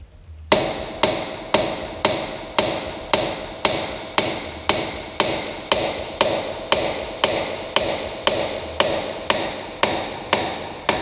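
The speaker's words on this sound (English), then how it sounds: "this part needs to be hit with a big ass hammer" A heavy hammer strikes the metal front strut of a 2001 Ford Focus during shock absorber replacement in a steady rhythm, about eighteen loud, ringing blows evenly spaced, close and with no talking.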